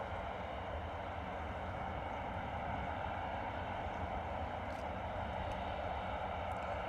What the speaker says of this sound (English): Fast taxi there from Ryanair, eh?